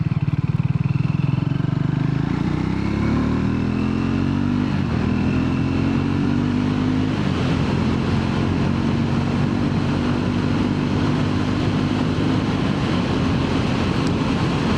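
A Triumph Scrambler 400X motorcycle being ridden, its engine droning steadily with rising and settling pitch under heavy wind rush, loud and continuous throughout.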